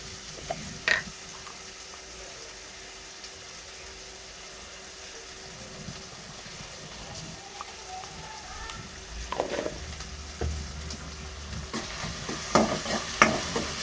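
Ginger paste fries in a pan with a soft, steady sizzle and occasional stirring scrapes. It starts quiet and close, then grows busier and louder toward the end, with no talk.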